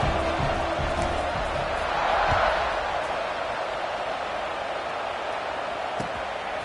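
A crowd at a Clemson college football game fills the stadium with a steady, broad roar that swells briefly and then settles back to a constant wash of noise.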